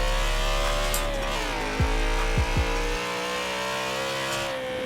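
BMW E92 M3 V8 engine in Forza Horizon 4, a steady droning engine note with a few quick blips of revving midway, playing alone without talk.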